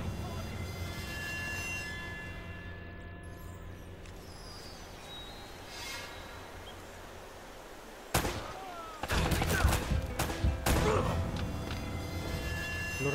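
Gunfire in Uncharted: Drake's Fortune, a quiet ambient stretch broken by a sharp shot, then a rapid burst of several loud gunshots and echoing impacts close by.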